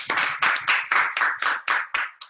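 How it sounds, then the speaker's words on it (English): An audience claps together in a strong, even rhythm, about nine loud, close claps in quick succession with no talk. "Let's give a clap to everybody who has done well."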